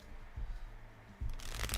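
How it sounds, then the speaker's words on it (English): A deck of cards is shuffled close up, with soft riffling and flicking bursts, then a louder, denser riffle near the end. "Let's get a few extra shuffles in here."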